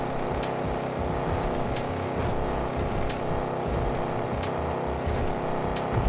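A Dodge Challenger in GTA5 held at full throttle, its engine a steady, loud, high-revving roar that drones on without a break throughout.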